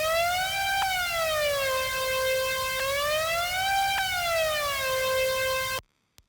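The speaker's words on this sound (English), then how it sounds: "here's an example of the fucking portamento being like turned up crazy" A bright, buzzy synth lead with extreme portamento swoops smoothly up and down in pitch with long sliding glides, held steady and loud, then cutting off abruptly, made in FL Studio for a trap beat.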